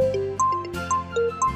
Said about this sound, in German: Jetzt klingelt auch noch mein Handy in meinem Händchen.